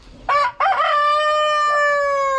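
A Rhode Island chicken crows close by: one long, loud, strained call that rises and then holds a sustained tone, preceded by a short broken opening note.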